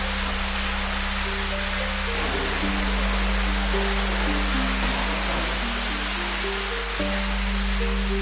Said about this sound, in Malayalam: അതോടൊപ്പം തന്നെ വെള്ളച്ചാട്ടം ഉണ്ട് എന്നുള്ളതാണ്